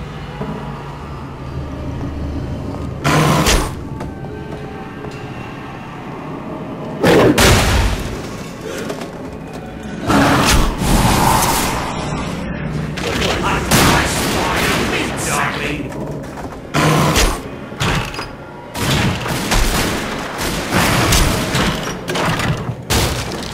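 Gunfire in The Darkness 2, with repeated sharp shots and booming bursts recurring across the stretch, loud and close, amid other game action and talk.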